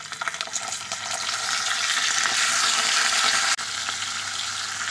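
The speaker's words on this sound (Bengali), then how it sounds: "এবার ওই একই তেলে মুড়োগুলোকেও ভেজে নেব" Ribbonfish heads frying in hot oil left over from frying pointed gourd, a loud, continuous, close sizzle and crackle with a brief clatter near the end, no talking.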